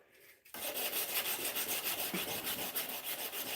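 Knives are hand sanded with quick, rhythmic back-and-forth rubbing strokes of abrasive on steel, close and continuous after a brief quiet start, with no talking.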